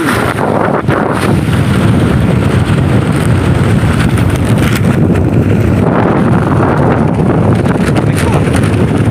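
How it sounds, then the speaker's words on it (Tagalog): Strong wind roars and buffets loudly and continuously on a boat while net fishing for lobster, with the rushing hiss of open water and waves beneath it. "Maanod na kasi, malakas kasi yung hangin."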